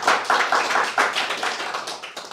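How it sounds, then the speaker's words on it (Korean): Church congregation clapping together in a sanctuary, a dense, steady burst of many hands applauding close by with no voices over it. "우리 응원의 박수 한번 쳐주시죠"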